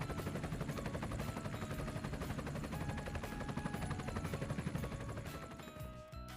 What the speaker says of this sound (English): Military attack helicopter.